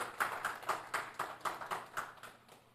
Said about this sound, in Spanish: denle un fuerte aplauso al que vive